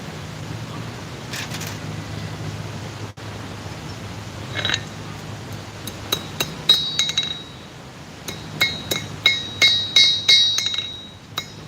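Hammer blows setting metal rivets cold, in a blacksmith's workshop, ring out as a series of bright metallic strikes that grow more frequent in the second half over a steady low hum.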